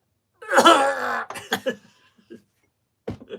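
A voice imitates a dog's cough: a long harsh, rasping bark-like burst, followed by a few shorter hacking coughs and a final short cough after a pause.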